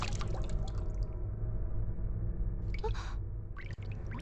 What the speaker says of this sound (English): I was suddenly distracted by the sound of dripping water nearby.